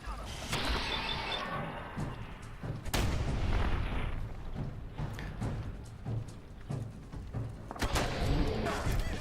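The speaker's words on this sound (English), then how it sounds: "Grenades." Grenade explosions in Fallout 4 survival mode: a few heavy booms and sharp blasts mixed with mechanical clatter and gunfire-like bursts, loud and close, spread across the stretch.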